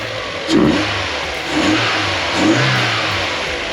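A car engine fitted with a new cold air intake blips through three quick revs, each rising and settling back to a steady idle, close and fairly loud.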